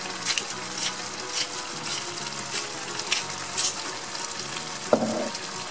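Food fries in a pan with oil, salt and pepper while a spoon stirs it, a steady sizzle broken by soft scraping strokes and a brief clink near the end.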